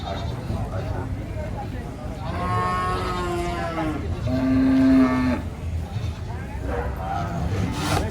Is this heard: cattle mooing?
yes